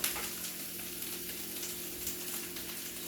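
Cabbage simmering in a pan, a steady soft sizzle and bubbling hiss that stays even and quiet for a few seconds, with no talking.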